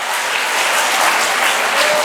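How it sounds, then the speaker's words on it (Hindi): Audience applause at an education festival, loud, dense and sustained clapping from a large crowd, steady from start to finish. "आपके लिए जोरदार तालियां।"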